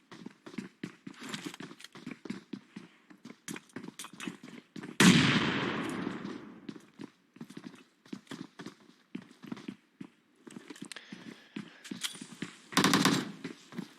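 Shots in a shooter video game scrim match come as quieter, rhythmic pops at a steady pace, with one louder, longer burst in the middle and another short flurry near the end.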